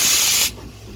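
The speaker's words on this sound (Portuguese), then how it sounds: "eu libero o vapor da caldeira para um cilindro" A steam locomotive's brake valve is opened and boiler steam rushes into the brake cylinder with a loud, close, broadband hiss that cuts off sharply after half a second, leaving a low rumble.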